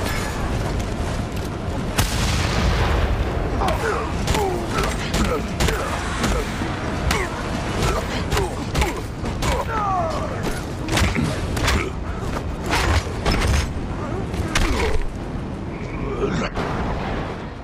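Explosions and gunfire in the Mad Max video game, with dense repeated booms and sharp bursts filling the whole stretch under steady mid-level noise, loud and close, with a voice talking intermittently over the action.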